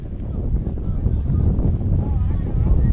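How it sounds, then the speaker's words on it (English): Steady low wind rumble roars across the microphone throughout at an outdoor softball game, a constant blustery noise with no clear breaks. "Very windy."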